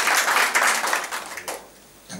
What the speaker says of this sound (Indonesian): Tepuk tangan bagi Roh Kudus